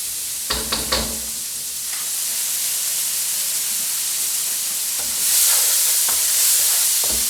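Fried rice cooking in a wok on high heat gives a steady, close sizzle, opened by a few sharp clanks of a utensil on the metal and rising slightly in hiss toward the end.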